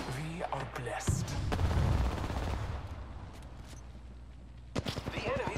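Gunfire in an Apex Legends match, with rapid bursts of shots heard moderately loud under a player's speech, a dense volley in the middle and a few sharp shots near the end.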